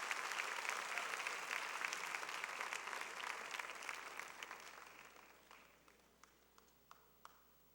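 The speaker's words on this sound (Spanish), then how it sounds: "fuerte aplauso de bienvenida." An audience at a Good Friday church gathering gives a loud welcoming applause for a preacher. Steady, dense clapping thins out over several seconds, ending in a few isolated claps.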